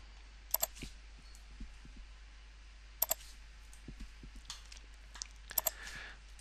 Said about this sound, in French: vous appuyez sur la touche Delete du clavier